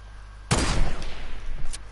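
A sudden loud volley of gunfire erupts in a shooter video game, a dense close burst followed by a few trailing shots and one more sharp report near the end.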